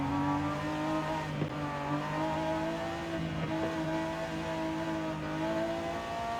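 Two game cars race head to head with sustained loud engine drone, steady harmonic whine held throughout with small shifts in pitch, no voices.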